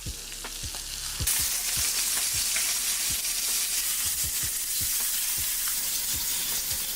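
Meat sears in a hot skillet with a steady, close sizzle and crackle, broken by scattered low thumps and pops from handling in the pan, with no talking.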